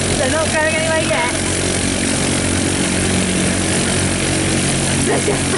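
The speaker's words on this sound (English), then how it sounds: "Sophie has set off her engine" Light aircraft engine and propeller running steadily at Stapleford Aerodrome, a continuous droning hum heard from nearby with voices talking over it.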